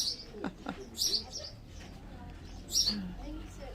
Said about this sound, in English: And you could hear the birdies chirping